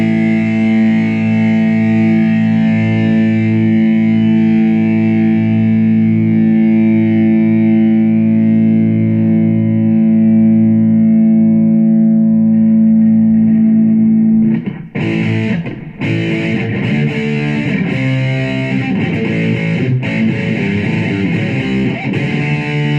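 A Reloved Oakcaster 16 headless electric guitar through distortion holds one loud, heavily saturated note that sustains for about fourteen seconds, then breaks into a run of choppy distorted chords and riffs.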